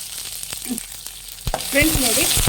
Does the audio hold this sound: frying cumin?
yes